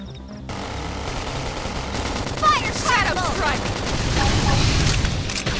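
Sustained gunfire in the Xenoblade Chronicles X video game, a dense rattling fusillade running throughout with a game soundtrack beneath and brief voice-like calls over it.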